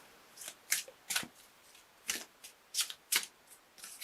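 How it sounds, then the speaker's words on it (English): An Archangel Michael oracle card deck being shuffled up close in a series of crisp, rapid riffling bursts separated by short pauses. "I'm going to pull an Archangel Michael card for you for a little bit more information"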